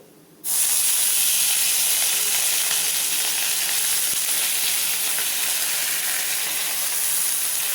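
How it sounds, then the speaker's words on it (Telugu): Soaked moong dal goes into a hot pan of tempering and sets off a sudden loud sizzle that holds as a steady, close hiss with no talk. "సో ఇప్పుడు నానబెట్టింది వేస్తాను, పెసరపప్పు వేస్తున్నాను చూడండి."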